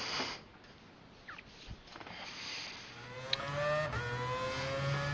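Mazda RX-Vision race car in a racing video game, engine revving and climbing in pitch at a moderate distance, with quiet background noise before the revs build.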